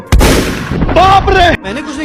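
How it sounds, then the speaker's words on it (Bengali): In a cartoon fight between bandit gangs, a loud sharp gunshot blast cracks at the start, followed by a brief tonal voice-like sound and then a quieter tail. "এক দলের লোক আরেক দলকে দেখলে গুলি মেরে উড়িয়ে দিত"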